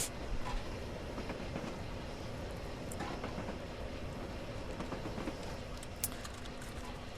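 A steam locomotive from Train Simulator, on the Bath to Templecombe route, runs continuously with a steady rolling rumble and scattered clicks and clanks of the wagons, fairly quiet and with no one speaking.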